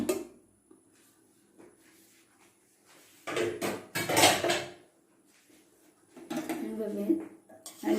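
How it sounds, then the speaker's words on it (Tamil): Cooked Ramadan nonbu kanji stirred in a pot, with clattering scrapes of a spoon against metal in two short bursts, separated by quieter stretches with a voice talking. "நல்லா கிளறி விட்டுறேன்"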